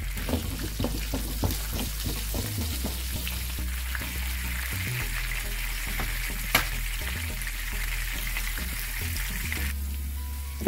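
Cumin, curry leaves and green and red chillies sizzle steadily in hot butter for a Punjabi dal tadka, a continuous close frying hiss with occasional stirring scrapes and one sharp clink.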